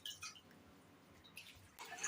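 Fresh coriander leaves being gently washed by hand in a large container of water, giving faint intermittent drips and sloshes with a louder splash toward the end.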